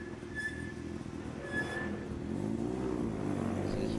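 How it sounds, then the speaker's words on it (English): A Mazda rotary rally car at a rally event revs and drives past, with a buzzing engine note that grows steadily louder over a few seconds, heard from trackside without talking. "This is Mazda Rotary. Unique sound to the Mazdas."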